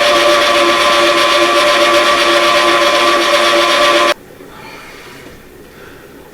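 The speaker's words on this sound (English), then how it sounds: "Let's go ahead and mix this up together now." An electric mixer whirs loudly and steadily through hot cross bun batter with egg yolk, a constant motorized drone that cuts off abruptly, leaving quiet room tone.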